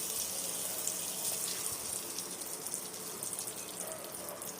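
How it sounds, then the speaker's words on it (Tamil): Cooking oil poured into a hot pan that already holds ghee, giving a steady, continuous sizzling hiss close up that runs the whole time with no talking. "பாருங்கள் எவ்வளோ ஆயில் ஊற்றுறோம்"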